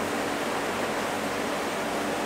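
Continuous rushing, bubbling roar of beer wort at a rolling boil in a brew kettle inside an insulated shed, steady and close, with no speech.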